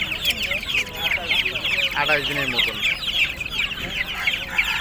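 Chickens clucking at a bird and pigeon market in Ashulia, busy repeated clucks close by, with someone talking over them.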